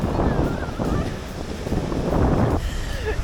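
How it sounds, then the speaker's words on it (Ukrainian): Sea waves wash onto the shore in steady, loud surges while wind buffets the microphone, with a brief lull between the swells. "І ось море зустрічає Машу"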